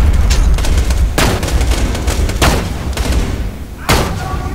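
Explosions and gunfire pound through a Borderlands 2 firefight, several loud sharp blasts spaced about a second apart over constant rumbling combat noise.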